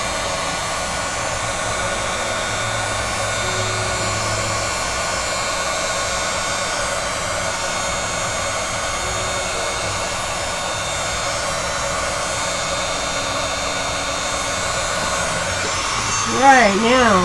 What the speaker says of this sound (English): So we're heating up the shellac, which is on top, which is holding the heat and